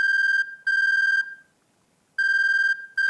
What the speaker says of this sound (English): Just then, Kajiwara's cell phone rang.